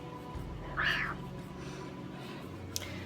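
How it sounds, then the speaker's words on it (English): A single short cat meow rises over a quiet room hum, followed by a faint click near the end. "when you hear a cat in the background, this is my cat."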